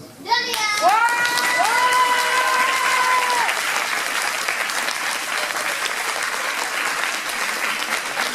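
Large crowd applauding cosplayers at a cosplay parade, loud sustained clapping that swells early and carries on steadily, with a voice, whistles and children's cries over it.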